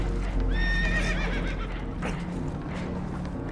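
Spooked horses in the Red Dead Redemption video game give a loud, wavering whinny early on, over steady hoofbeats and rumbling background noise, with a few softer snorts afterward.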